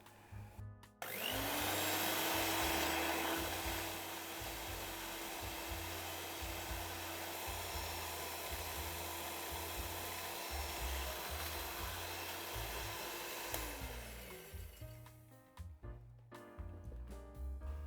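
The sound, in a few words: electric mixer whipping frozen cream into chantilly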